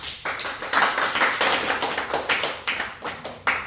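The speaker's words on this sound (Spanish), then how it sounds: "Palmas para Cristo." A church congregation claps in unison during a sermon, a rhythmic, evenly spaced pattern of hand claps that stays strong and steady for several seconds.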